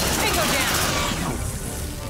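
Sustained gunfire in the sci-fi game Aliens: Dark Descent, a dense continuous fusillade of shots that fades slightly toward the end, with a voice talking underneath.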